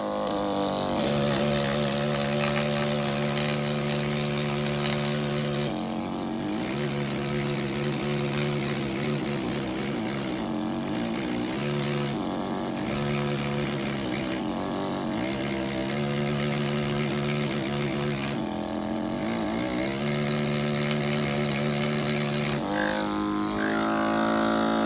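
A power tool cutting stone during life-size angel carving, a loud continuous grinding whine with steady tonal hum and slight dips in pitch as the blade works, close and without talk.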